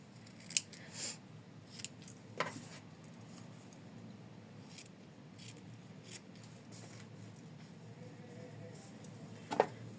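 Scissors snipping fabric to trim the seam allowance of a machine-embroidered in-the-hoop heart ornament, a few close, distinct cuts spread over a quiet background, without speech.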